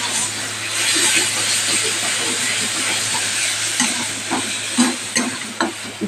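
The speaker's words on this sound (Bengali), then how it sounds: "এবার নেড়ে দিচ্ছি।" Ground spice paste fries in a hot kadai as a spoon stirs it, making a continuous close sizzle broken by repeated scraping strokes that grow more distinct toward the end.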